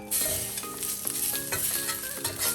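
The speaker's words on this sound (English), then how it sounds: "Time to add in our sausage." Sausage sizzling and frying in a hot skillet, with steady close crackle and spatter broken by repeated stirring scrapes, loud with no talk.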